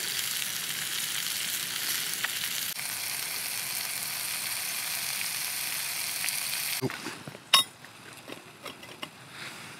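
Chicken stir-fry sizzling in a pan over an X-Boil alcohol stove while camping under a tent and tarp, a steady close frying hiss that stops abruptly near the end, followed by a few sharp clanks and handling noises.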